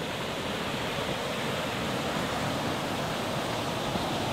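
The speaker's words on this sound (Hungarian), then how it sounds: "Végig az egész szurdokba hallani a patakot, ahogy itt zúg mellettünk." A mountain stream rushes through the Túri gorge (Cheile Turenilor) in Transylvania, a steady, dense, close roar of tumbling water that fills the whole stretch without a break.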